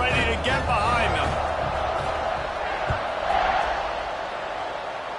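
A college football stadium crowd at ASU versus Baylor makes a loud, continuous din just before kickoff, with a swell of whooping and cheering near the start and an excited voice over the noise.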